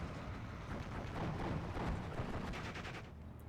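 Gunfire in the Steel Division II war strategy game: a dense, continuous roar of distant shots and blasts blending into rumbling noise, fairly quiet and unbroken, with no speech.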